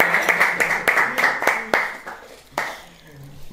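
A small audience gives a short burst of clapping to welcome a guest on a Spanish-language fashion talk show. The applause starts fairly loud, then thins and fades out within a few seconds.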